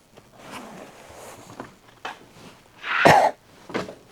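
Old seat covers tear away from the seats of an abandoned 4x4 Chevy Blazer in scattered scuffs and rustles, then one loud, close ripping burst near the end and a softer tug after.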